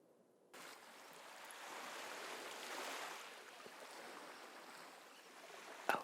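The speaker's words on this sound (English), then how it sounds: "Ocean sounds." Ocean waves wash steadily as an ambient track on an ASMR soundboard, a broad continuous surf rising in after a brief quiet start, swelling slightly midway and fairly loud, with no voices.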